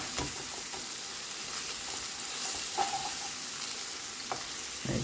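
Spices for a chicken bhuna frying in a pan, giving a steady close hiss and sizzle with a few soft stirring scrapes, no voices.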